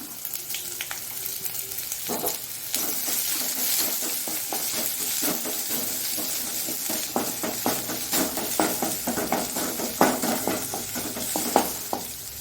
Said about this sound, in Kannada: ಈಗ ನೀರುಳ್ಳಿಯನ್ನು ಹಾಕ್ಕೊಳ್ತಿದ್ದೇನೆ ನಾನು.